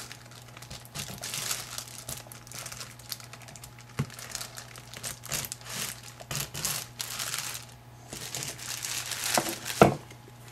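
Plastic wrapping on a leather sheath project crinkles and tears steadily at close range for about ten seconds, a busy stream of crackling rustles with a slightly louder snap near the end.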